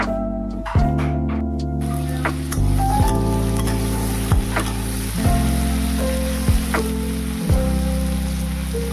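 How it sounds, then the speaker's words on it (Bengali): Pre-boiled young jackfruit fries in a pan, its loud continuous sizzle broken by repeated stirring scrapes and clatters at irregular intervals. "তো দেখো ইঁচড় ভাজাটা চাপিয়ে দিলাম"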